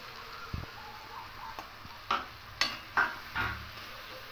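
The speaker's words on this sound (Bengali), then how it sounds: "এবার আলুগুলো দিয়ে দেব" Potatoes are dropped into chicken curry in a pan and stirred, making a few close, sharp scrapes and knocks of a spoon against the pan over a soft background, and no one speaks.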